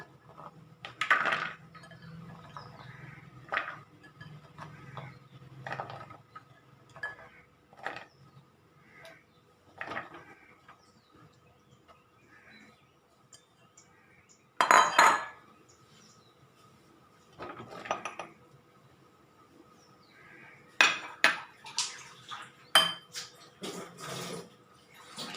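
Jackfruit seeds, raw jackfruit and prawns being dropped and handled in a cooking pot, with scattered clinks, knocks and rustles, some louder clusters and quiet gaps between them.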